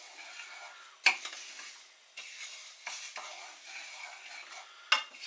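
Whole spices toasting in a dry pan are stirred with a metal spoon, giving scraping, rattling strokes that come in bursts, with two louder sharp scrapes standing out against a quiet background.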